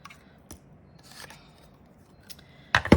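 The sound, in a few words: scissors trimming material for cutlery holder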